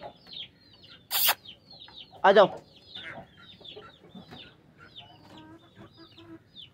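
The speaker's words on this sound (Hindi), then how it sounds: "और ये जो है ना ये नकटी मुर्गी कुड़क हो गई" A broody hen clucking in a backyard poultry setup, repeated short clucks and chatter with a couple of louder squawking bursts, close by; someone briefly speaks over it.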